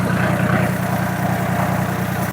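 A tractor engine idles at a farm in Roshnik, Albania, with a loud, close, steady low rumble and a fast, even chug throughout, heard alone without any voices.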